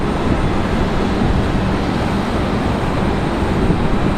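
A Spirit Airlines airliner departing Raleigh-Durham airport produces a loud, steady jet roar, broadband and constant throughout with no talk over it.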